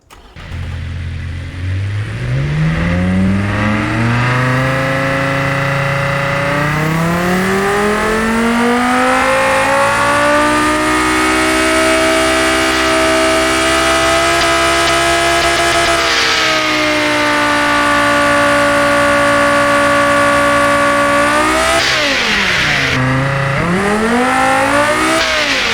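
Simulated car engine from the game Automation revving up smoothly through the range, holding high, then dropping and climbing again, loud and continuous with no talk.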